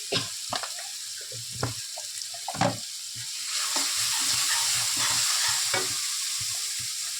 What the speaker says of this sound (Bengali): দিয়ে ভালো করে নাড়িয়ে দেবো।